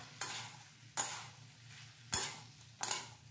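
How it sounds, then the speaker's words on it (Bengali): Pumpkin curry with tomato and coriander stirred in a pan, four distinct spatula scrapes spaced about a second apart over a faint background sizzle. "খুব ভালো করে নাড়াচাড়া করে মিশিয়ে দিচ্ছি।"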